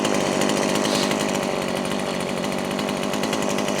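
A chainsaw runs steadily at high revs after servicing with a new plug and filter, a loud close buzzing drone with a fast even pulse and no talk.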